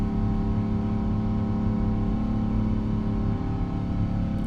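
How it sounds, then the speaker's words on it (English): Jet engines of a Boeing 777-200ER in the PMDG flight simulator hold a loud, steady roar with a sustained low rumble and droning tones, continuous and unchanging throughout. "So those engines screaming at us."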